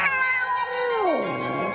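One of fifty domestic cats living crowded together yowls in a long, wavering, drawn-out caterwaul during a tense standoff, close and loud and heard alone.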